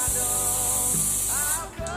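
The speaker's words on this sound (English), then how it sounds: "I'm going to spray so it doesn't stick." Cooking spray hisses in a steady stream onto a 9 by 13 baking pan, one continuous close spray lasting about a second and a half before cutting off.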